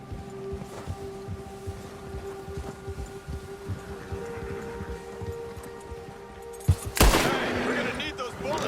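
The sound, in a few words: gunfire in the video game Red Dead Redemption 2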